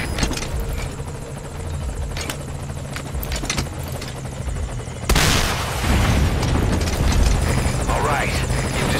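A helicopter in Metal Gear Solid V: Ground Zeroes approaches a landing zone. Its rotor drone rumbles steadily, then grows abruptly louder and closer partway through, while radio voices talk over it.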